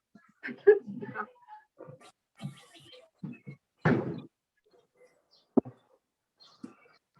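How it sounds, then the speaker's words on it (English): An indoor door being pushed shut gives one firm, close thud with a short latch click a moment later. Faint voice sounds and small household noises come before it. "Just a second, I'm gonna close the door."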